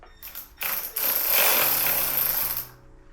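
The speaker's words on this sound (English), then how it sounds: "I'm ready to go ahead and tighten these down and torque them" A tool runs down the tow hitch bolts on a Tesla Model 3 in one loud, buzzing mechanical burst of about two seconds, with softer clicks before and after.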